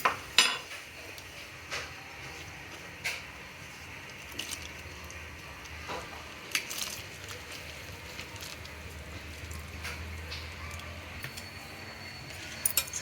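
Mirchi bajji batter, with a little hot oil added, is mixed by hand in a bowl, giving faint scattered clinks and taps of utensil against the dish over a quiet background.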